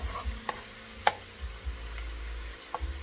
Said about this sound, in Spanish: Y le vamos a revolver.